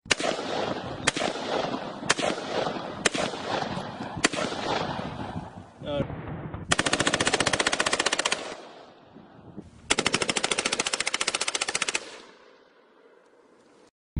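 Rapid M16 automatic rifle fire rattles in long bursts, loud and close, with single sharp shots early on, then two sustained volleys before fading to quiet.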